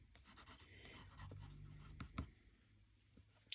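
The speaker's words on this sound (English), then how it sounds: "I'm going to use this coloured pencil that I've got here and put in a rudimentary branch" A coloured pencil held on its side scratching across paper while a rudimentary branch is drawn, soft close strokes of uneven length with a few sharper taps, very quiet and without talking.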